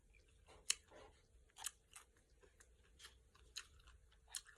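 Close, quiet crunchy chewing of cucumber salad with shrimp, with crisp bites and irregular munching repeated over several seconds.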